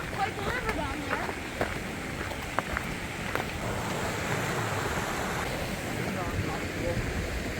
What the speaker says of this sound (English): Quite the river down there.